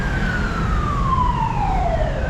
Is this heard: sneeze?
no